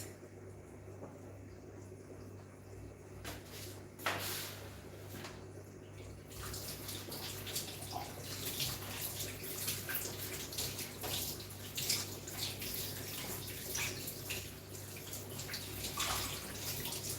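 Coriander leaves being rinsed under a running kitchen tap while cooking beef biryani, a steady close splash of flowing water that grows louder and fuller after the first few seconds, with scattered drips.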